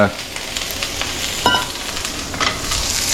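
Onions and scallions hit very hot scallion oil in a pan for pan-fried soy sauce chow mein, a bright continuous sizzle with a few scrapes and stirring bumps, no talk.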